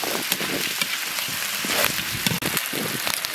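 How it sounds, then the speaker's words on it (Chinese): Chicken pieces stir-frying in a hot wok with scallion, ginger and dried chili, giving a steady close crackling sizzle with scattered sharper pops and the scrape of stirring. "鸡肉炒变色以后下入葱姜干辣椒"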